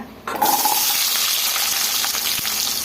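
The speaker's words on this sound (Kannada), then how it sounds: "ಎಲ್ಲ ಸೇರಿಸಿ ಚೆನ್ನಾಗಿ ಕೆಂಪಿಗೆ ನಾವು ಫ್ರೈ ಮಾಡ್ಕೊಬೇಕು" Chopped onions hit hot oil in a pan for peanut chutney and break into a loud, steady sizzle that continues with a few faint stirring clinks.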